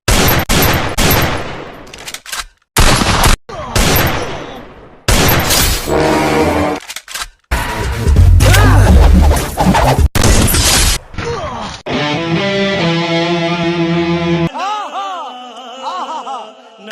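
Free Fire video game gunfire comes in loud bursts and rapid volleys separated by brief silences, with crashing, shattering impacts mixed in, followed by a sustained tonal game effect toward the end.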